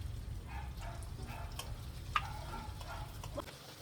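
Ginger fries in melted butter in a pan, giving a soft, steady low sizzle with faint stirring scrapes and one small clink, heard close and alone.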